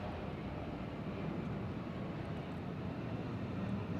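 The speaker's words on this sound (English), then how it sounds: "I hear it. Oh, that's plane." Airplane near Atlanta airport, a steady broad rumbling roar with low-frequency weight, fairly distant and continuous, with slight wind buffeting and no talk.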